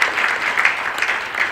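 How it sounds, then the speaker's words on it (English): Applause from a town hall audience at a mayor's budget meeting, a steady wash of clapping with a few sharper bursts, held at a fairly even level from start to finish. "You clap for that."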